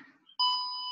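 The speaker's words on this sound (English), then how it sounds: "Reprogram a phone timer." A phone timer gives a sharp electronic beep that cuts in abruptly and holds as a sustained tone, heard alone after a moment of quiet.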